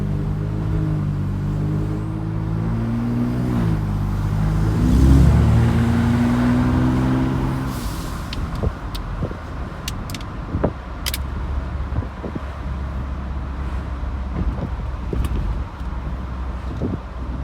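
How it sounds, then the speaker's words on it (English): Car with aFe equal-length catless downpipes and turbos, heard from inside with windows closed: a steady low drone that swells into a rising engine note around the middle, then settles into a quieter rumble with scattered clicks. "You can still hear those turbos. But the exhaust note is not overwhelming."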